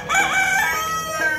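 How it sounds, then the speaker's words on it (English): A rooster crows close by on a farm in the morning, one drawn-out cock-a-doodle-doo lasting about a second, with faint fowl noise in the background. "And the roosters are the noisy ones this morning."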